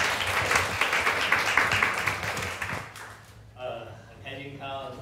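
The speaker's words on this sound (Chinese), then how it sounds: "我们热烈掌声欢迎他。" Audience applause at a public talk welcoming the host, a dense burst of clapping for about three seconds before fading as a voice begins speaking.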